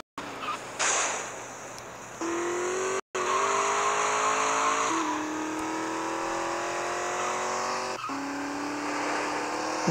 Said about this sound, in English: I'm driving with a Ferrari.